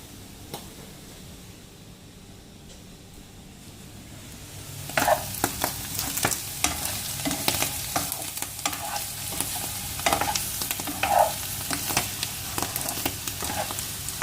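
Sausage, mushrooms and onions fry in a pan with a soft sizzle that jumps louder after a few seconds. Repeated stirring clicks and scrapes of a utensil sound close against the pan.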